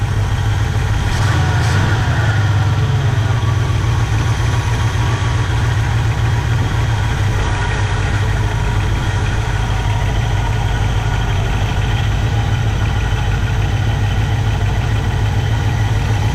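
A 1964 Pontiac Catalina V8 barn find idles steadily after more than 30 years of sitting, a loud, continuous low rumble throughout with a slight unevenness and no talk.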